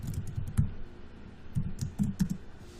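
Typing on a computer keyboard at a help desk workstation, a loose run of soft clicks and taps in bursts with short pauses, close and moderately quiet.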